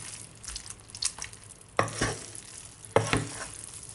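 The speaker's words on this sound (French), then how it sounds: "Voilà, comme ça vous remuez. Et vous faites fondre ces petits cubes de beurre." Pasta stirred in a pan as small cubes of butter melt, giving soft scraping stir strokes and a faint sizzle, with a few louder clicks and scrapes of the spoon against the pan.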